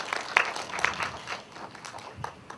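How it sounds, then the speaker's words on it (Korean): Audience applause after a live-music film screening with a post-screening talk, a smallish crowd clapping in uneven bursts that thin out and fade over a couple of seconds. "박수 부탁드립니다"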